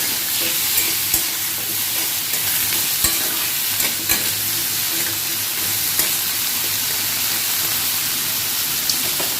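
Vegetable curry fries in a little oil while being stirred, producing a loud, continuous sizzle with regular scraping stir strokes and small clicks, close to the listener and with no talking.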